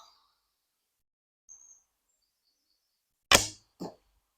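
An arrow is loosed from a Daylite Majesty 50 lb Korean bow, drawn to 33 inches, with one sharp release crack and a brief second thump just after, standing alone in quiet.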